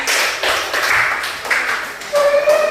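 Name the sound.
group clapping hands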